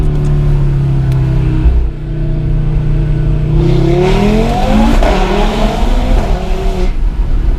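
Loud five-cylinder engine of a 2018 Audi RS3 rated at 510 BHP, a droning idle-like note rising into hard acceleration with climbing revs and a raspy, booming exhaust up close.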